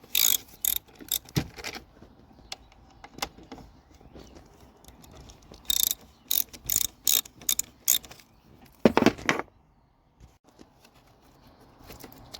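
Ratchet with a 10mm socket loosening the battery terminals on a Dodge Neon, short bursts of quick close clicking separated by quiet gaps.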